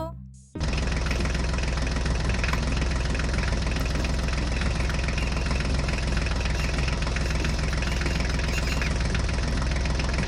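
A New Holland tractor engine starts abruptly after a brief lead-in and then runs at a loud, steady idle with a dense low rumble and a constant knocking throb, close by and alone without talk.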